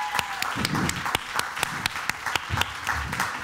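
An audience at a 2017 junior school show at La Garenne School breaks into warm applause, a dense, even patter marked by sharp individual claps standing out up front.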